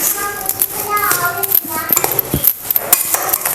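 Sugar being stirred into carrot halwa in a pan gives close metallic scraping and clinking of a spoon against cookware, repeated in uneven strokes, with faint voices in the background.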